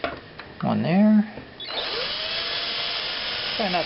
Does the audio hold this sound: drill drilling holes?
yes